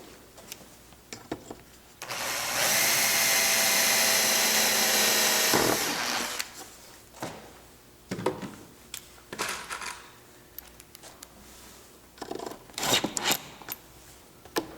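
Screws being driven to mount a car-audio subwoofer into its enclosure box: a loud sustained power-driver whir for several seconds, then a string of short bursts, clicks and handling knocks.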